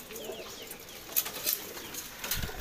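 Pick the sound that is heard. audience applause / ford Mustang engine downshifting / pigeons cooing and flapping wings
pigeons cooing and flapping wings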